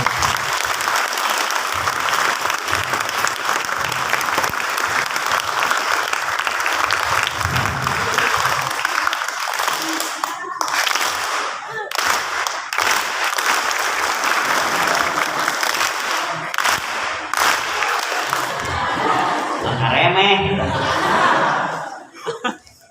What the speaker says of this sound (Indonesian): Tepuk tangan dulu buat semuanya biar ngantuk.